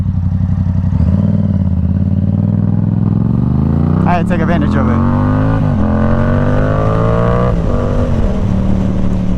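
A Yamaha R7 motorcycle accelerates hard along a road, its engine note climbing steadily through the gears, loud and close, with a brief spoken remark over the rising roar.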